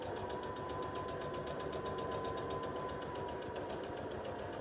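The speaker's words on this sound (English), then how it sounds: "we're just going to sew these two layers together" A sewing machine stitches two layers of mesh fabric for a stretch dress, its steady rapid needle chatter running evenly and fairly quietly throughout with no talking.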